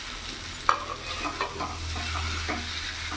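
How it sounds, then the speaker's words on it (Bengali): Duck eggs and small potatoes cook in a spiced mixture and get stirred through, giving a soft steady sizzle broken by a sharp utensil knock and a few scraping strokes, with no talking. "ভালো করে ডিমের মধ্যে আলু মশলা ভালো করে মিশিয়ে নেবো"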